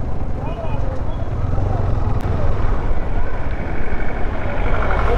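Steady, dense traffic noise on a busy hill road at Yercaud, with many vehicles including out-of-state ones rumbling past continuously and fairly close, under faint background voices.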